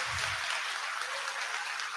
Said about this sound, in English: Let's hear a round of applause for the families who have been here to support you